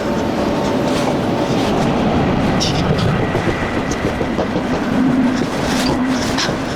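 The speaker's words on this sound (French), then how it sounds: "je vais monter dans le RER" Inside an RER commuter train: a loud, steady rumble with rail clatter and occasional squealing tones, continuous throughout.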